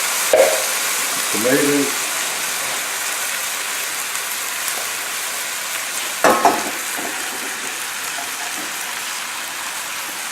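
Broccoli, asparagus and tomatoes fry in butter in a pan over a high flame. A loud, continuous sizzle fills the clip, with a few brief clatters and a short spoken word over it.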